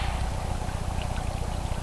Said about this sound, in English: running just a little bit of water in and out, kind of like the waves coming in and out on the beach